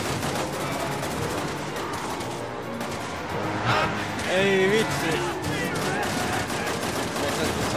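Rapid bursts of gunfire in the video game Resident Evil 6, sharp repeated shots crackling throughout under excited talking from players.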